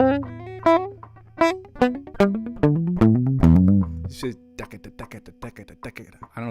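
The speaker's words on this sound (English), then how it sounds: "you can really hear the percussive element to it when you palm mute" Electric guitar with distortion playing a selective-picking exercise, palm-muted chugs and picked notes in a quick uneven run, percussive and close, some notes ringing briefly before damped plucks at the end.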